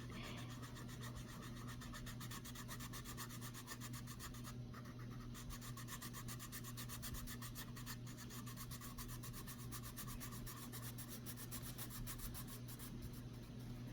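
Derwent colored pencil rubbing on paper during coloring, a continuous close, quiet scratchy rasp of steady back-and-forth strokes without pauses, with no one talking.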